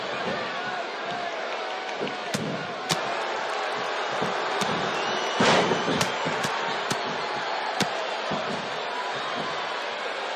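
Arena crowd noise from the WWE 2K18 wrestling game at a Survivor Series match, a dense continuous roar with sharp impact slams throughout and a brief louder surge midway.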